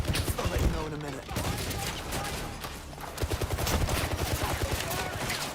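Dense gunfire in a 007 video game, rapid overlapping shots and bursts crackling continuously for several seconds, loud and close, with a voice faintly present beneath.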